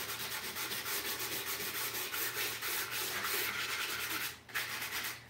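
Hand sanding to distress paint on an art deco magazine rack, heard as close, rhythmic rubbing strokes of abrasive on a painted surface, steady and fairly quiet, with a short pause near the end.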